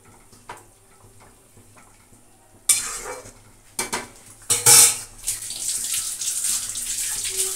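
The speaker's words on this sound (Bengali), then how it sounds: "এবার দিয়ে দেবো এই পোনা মাছ দুটো," Cut rohu fish pieces go into a cooking pan after a quiet stretch. Sudden metallic clinks and clatter give way to a loud, continuing hiss that fills the last few seconds.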